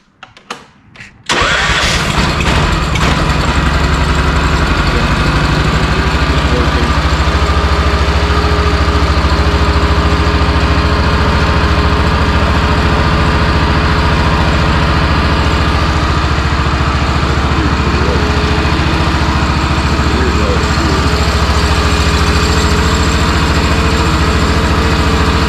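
A Honda RT5000 four-wheel-drive, four-wheel-steer tractor engine catches after a few sputters and then settles into a steady, loud, continuous idle, running alone with no talk.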